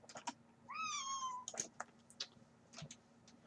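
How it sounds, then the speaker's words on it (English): A cat gives one clear, rising-and-falling meow close by indoors, set amid quiet clicks and taps and a low steady hum. "And Kitty is very talkative."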